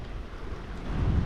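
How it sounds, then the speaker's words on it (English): Tailwind gusts rush past on a bike ride along a lakeside road on a misty day, a steady low roar of wind buffeting the microphone that swells slightly toward the end. "there's just a whole bunch of tailwind gusts"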